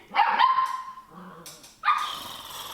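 A dog barks sharply a couple of times, then gives a longer whining yelp after a pause; close and fairly loud.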